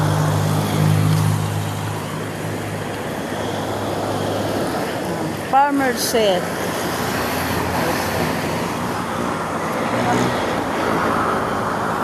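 Fast road traffic rushes past a roadside near a resort in a constant broadband roar, with one vehicle sweeping close by midway; a voice speaks briefly over the noise.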